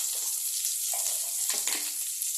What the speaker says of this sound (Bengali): তো গ্যাসের আঁচটা একটু বাড়িয়ে দিয়ে আমি বেগুনটাকে হালকা ফ্রাই করে নিচ্ছি